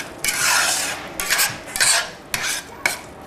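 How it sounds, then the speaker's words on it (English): Chana dal halwa is stirred in a pan with repeated gritty scraping strokes, about five or six close, rhythmic scrapes separated by brief pauses, with a faint sizzle beneath. "to keep stirring it. It should not get burnt at the bottom."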